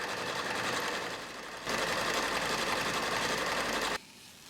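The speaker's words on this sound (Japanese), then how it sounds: "ウエストにギャザーミシンをかけよう。" Domestic sewing machine running a long gathering stitch along the waist of a child's gathered skirt, a steady close mechanical whir that slows briefly, speeds up again, then stops near the end.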